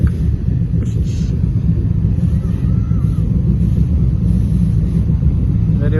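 A Ford Mustang at a night festival in Abu Dhabi gives a deep, continuous engine rumble close by, heavy low-end throb under crowd ambience with faint voices.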